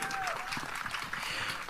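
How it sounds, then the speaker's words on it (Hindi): An audience at a Border 2 film premiere party applauds in a dense, continuous wash of clapping, fairly near and steady through the moment, with a few voices mixed in beneath it. "इसके लिए एक बार जोरदार ताली होनी चाहिए।"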